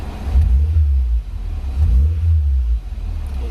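Turbocharged Suzuki Swift ZC31S engine at idle, a steady close low rumble with slight rises in pitch, no talking.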